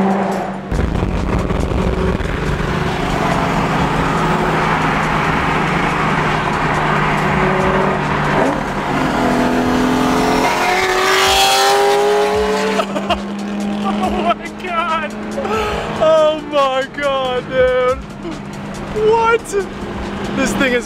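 A BMW E30 with a swapped-in LS1 V8 roars loudly as it revs and accelerates hard, with tire squeal and a passing rush, while excited voices talk over the second half.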